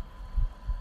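A Roblox horror game plays a soft, low heartbeat, two muffled thumps in quick succession over a faint steady hum.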